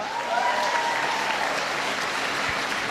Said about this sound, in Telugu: క్లాప్స్ లేవా?